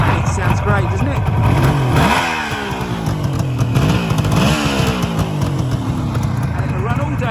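A Suzuki GT550 two-stroke motorcycle idles loud and close after an electric start, a buzzy, crackling engine note with occasional blips of the throttle, and someone talks over it.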